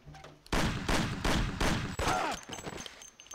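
A rapid series of four or five loud gunshots in quick succession in the video game Mafia (2002), then a ringing metallic tail as the firing stops.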